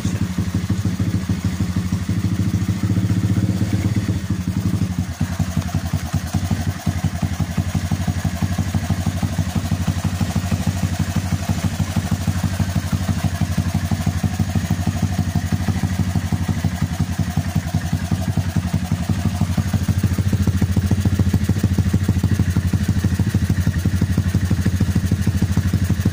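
Kawasaki Barako 175 motorcycle engine idling close by after a kick start, a loud, steady, throbbing single-cylinder putter with slight mechanical clatter and no talking.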